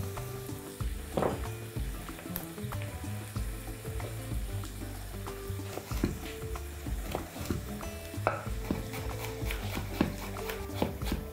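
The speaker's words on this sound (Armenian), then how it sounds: "Տապակող սոխին կավելացնեմ գազար, 1 միջին գազար, կտրատում ենք մանր խորանարդիկների" Chopped onion sizzles steadily in a frying pan for stuffed peppers with bulgur and vegetables, with small utensil clicks and taps scattered through the sound.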